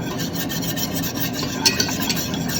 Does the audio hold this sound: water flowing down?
no